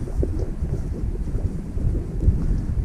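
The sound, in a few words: breeze blowing while hiking Amboy Crater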